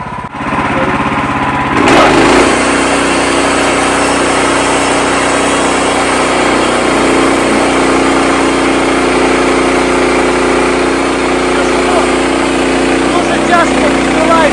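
Homemade sawmill engine running loudly and steadily while a blade cuts through a log, with a sharp start near the beginning and a constant mechanical roar throughout.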